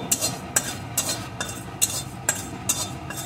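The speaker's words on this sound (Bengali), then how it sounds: "এখন জিরেটাকে শুকনো কড়ায় এইভাবে নাড়িয়ে ভেজে নেব।" Whole cumin seeds are dry-roasted in an empty wok while a spatula scrapes across the metal in a steady, even rhythm, about eight sharp strokes over a soft rustle of seeds.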